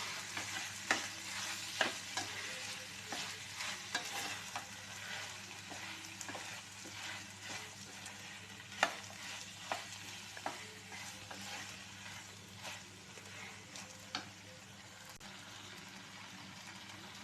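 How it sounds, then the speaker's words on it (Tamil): Potato and capsicum stir-fry in a pan with a soft, steady sizzle and scattered light scrapes and taps from stirring, fairly quiet throughout. "இப்போ கேப்சிகம் சேர்த்துறேன். இது 1 நிமிஷம் ஃப்ரை பண்ணால் போதும்."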